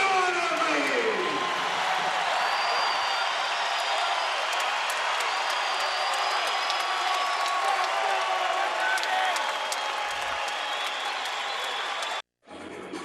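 A college basketball arena crowd, Utah State hosting UNLV, roars and applauds in a loud, sustained wash of cheering that runs over ten seconds before cutting off abruptly near the end.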